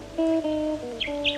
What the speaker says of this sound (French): Écoute, c'est le rossignol.